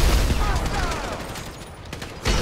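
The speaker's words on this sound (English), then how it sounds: "So I guess we're shooting our way out of here." Gunfire during a shootout in the game GTA V, with dense bursts of shots and impacts packed together, loud and close over a busy action mix, with a sharp burst again near the end.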